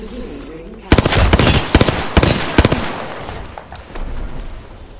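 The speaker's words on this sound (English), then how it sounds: "Airstrike!" Loud gunfire and explosions from an airstrike in the Apex Legends video game, with sharp rapid bursts clustered near the start and a rumbling blast tail afterward. A voice is heard briefly under the noise.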